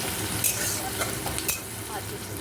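Prawns, potato and pumpkin fry in a pan with a continuous close sizzle, while light scraping stir strokes from a utensil come through every half second or so.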